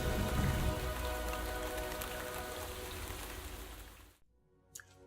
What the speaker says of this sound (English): God sent rain to Samaria